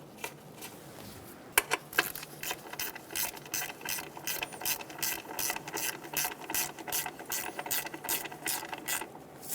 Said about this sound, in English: Get the bolt started and snug it down.